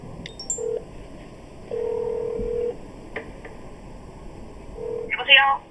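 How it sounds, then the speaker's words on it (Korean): A phone number is keyed on a telephone, giving a few separate dialing tones spread over several seconds in a quiet room, with one brief higher beep near the end. "전화를 건다."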